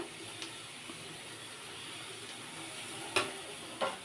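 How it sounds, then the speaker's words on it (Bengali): Spices with chopped green chili and ginger-garlic paste sauté in a pan, a low steady sizzle and hiss with a couple of soft scraping stirs, close and quiet, with no talking. "ভালো করে মশলাটা কষিয়ে নেবো"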